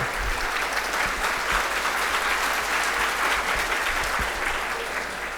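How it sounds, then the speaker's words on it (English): A conference audience applauds at an inaugural ceremony, a dense, steady wash of many hands clapping at once that holds evenly loud from start to finish with no voices on top. "So first of all, clap for yourself."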